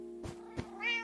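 A white cat in a video game gives a single rising meow near the end after two soft thumps, close and clear with no speech.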